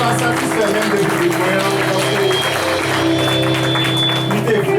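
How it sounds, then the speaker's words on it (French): Audience applause at an album release concert: a steady wash of clapping from a crowd, continuous and moderately loud throughout, with a voice speaking over it. "vous méritez un plus gros applaudissement"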